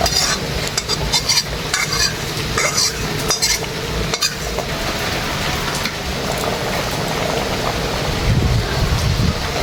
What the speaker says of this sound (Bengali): নেড়ে চেড়ে একটু কষিয়ে নেব।